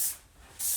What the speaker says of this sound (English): So I am going to spray all of it.